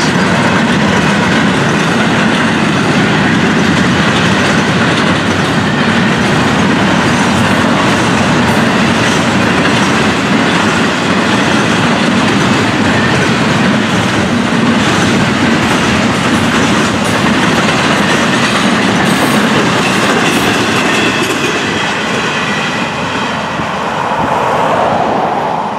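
A long freight train of empty double-stack cars rumbles past close by, a loud continuous roar with rhythmic clickety-clack from the wheels over the rail joints.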